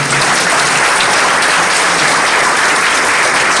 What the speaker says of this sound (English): Let us clap for them of Kuol Manyang Juuk.